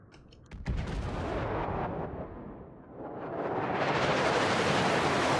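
Battleship Montana fires its guns in a naval video game, a sharp distant boom followed by a sustained rumbling roar that swells louder toward the end, with no voices.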